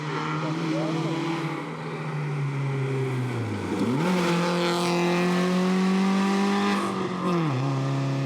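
A BMW 318 Ti rally car driving a stage at Rally Martinique, its engine note climbing and dropping through gear changes, steady and fairly close, with commentary voices over it.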